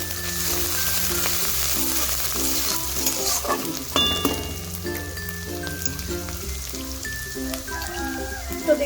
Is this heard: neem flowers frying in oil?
yes